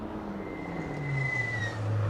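A Toyota MR2 race car runs at a historic hill sprint in Leyburn, its engine note rising steadily as it accelerates, heard at moderate distance.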